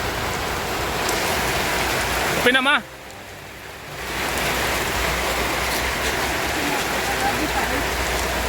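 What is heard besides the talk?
heavy rain with wind in Albay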